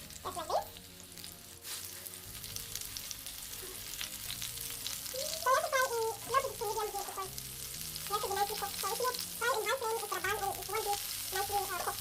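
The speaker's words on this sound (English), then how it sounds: "Now I'm gonna just fry it." Patties frying in oil in a pan, a steady close sizzle running the whole time, with brief clinks and stirring noises breaking in.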